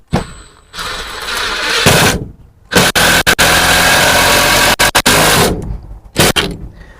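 A Ryobi impact driver driving a screw into a wooden table, several loud, rapid hammering bursts of varying length separated by short silences, with a whirring lead-in at the start.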